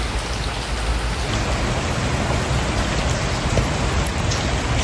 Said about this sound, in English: So since it's raining